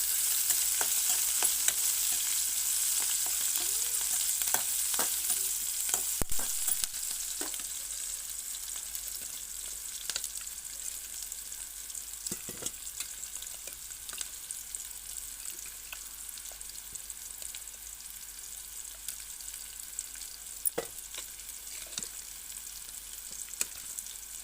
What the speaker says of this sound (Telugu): ఫైవ్ మినిట్స్ అలా ఆనియన్స్ కుక్ అయిపోతాయండి